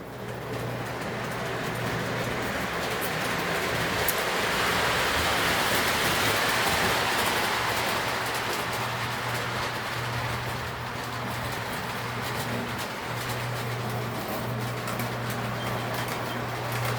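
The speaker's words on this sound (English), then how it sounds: "let's just run a train, shall we?" A model train pulled by F unit diesel locomotives runs steadily, giving a continuous broadband rumble with a low hum underneath, no one speaking.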